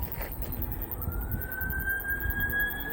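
A distant ambulance siren wails, rising gradually in pitch, over steady traffic rumble and background noise near the Manawatu River in the Manawatu Gorge, New Zealand.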